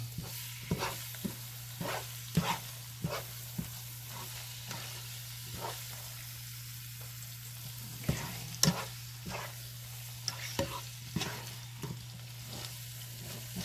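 A pot of beef chili cooks on the stove with a soft, steady sizzle and low background hum. Sporadic scrapes and knocks from stirring recur throughout, with no talking.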